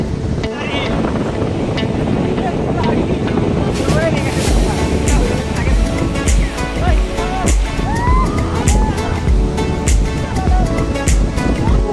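Sea waves roll in at Digha beach under steady, gusting wind that buffets the microphone, forming a continuous loud roar with surges of surf throughout.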